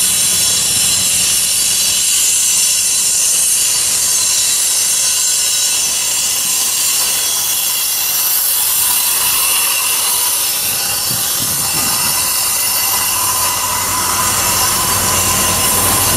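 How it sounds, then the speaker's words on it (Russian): A steady, harsh high-pitched grinding whine of an angle grinder cutting metal, continuous and loud throughout with no talking. "Болгарка. Терпеть не могу этот звук."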